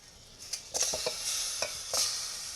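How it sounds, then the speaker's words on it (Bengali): Marinated chicken pieces go into a hot pot on the stove and sizzle loudly, with a few sharp clatters and stirring scrapes as they settle. "এবার আমি এখানে সেই মেখে রাখা মুরগির মাংসটা দিয়ে দিচ্ছি"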